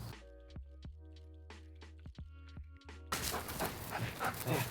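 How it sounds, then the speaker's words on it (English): A pet dog yips and whimpers in a short run of high, tonal cries and barks, fairly close, followed by a burst of broadband scuffling noise. "This is my dog."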